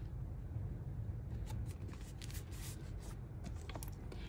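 Craft knife or blade trimming the overhanging paper pages of a handmade journal, with quiet, close scraping and rustling strokes in irregular short bursts and no talking.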